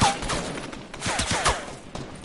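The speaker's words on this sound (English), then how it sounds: "Who got me with a shotgun?" Rapid video game gunfire, a burst of overlapping blasts in quick succession at moderate loudness, with no talk.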